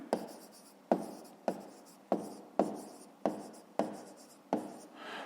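A pen writes numbers on paper in eight evenly spaced scratchy strokes, each starting sharply and fading, close and clear with no talking.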